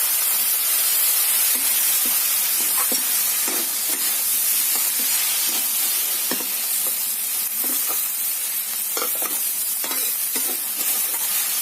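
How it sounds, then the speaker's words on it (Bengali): Drumstick leaves in a pan, sprinkled with water to steam and stirred, give a continuous close hiss and sizzle with repeated soft scraping stirs and no talking. "এইভাবে একটু অল্প অল্প জলে ছিটে দিয়ে দিয়ে এটাকে আমি সেদ্ধ করে নেব"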